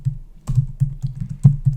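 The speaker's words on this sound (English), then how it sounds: "that was an up arrow I just hit there just to save me some typing" Keys on a computer keyboard are pressed repeatedly in a quick, close, soft tapping rhythm, about eight clicks in under two seconds with no talk.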